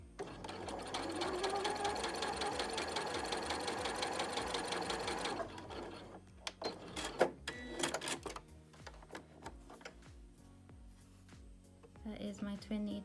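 A sewing machine runs a steady, fast stitching drone for about five seconds as a twin needle hems jersey knit, then stops, followed by scattered clicks and handling sounds.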